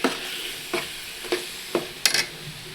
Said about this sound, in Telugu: క్యారెట్, బీనీసు, ఉల్లగడ్డ, పచ్చిమిర్చి వేసేసుకోండి. ఈ ఆయిల్లోనే ఒక 10 నిమిషాలు బాగా